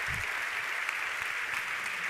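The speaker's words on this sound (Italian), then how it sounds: "Continuiamo dopo con gli applausi" An audience at an Italian award ceremony claps in sustained, even applause, a dense steady patter of many hands heard from a moderate distance with no speech over it.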